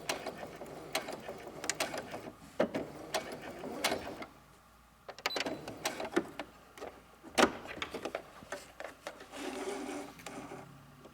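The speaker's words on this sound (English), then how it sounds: "Okay, we're gonna backstitch." A sewing machine backstitches a scrunchie seam in short bursts of quick mechanical stitching, stopping and starting with clicks and rustling fabric between runs, fairly quiet and close.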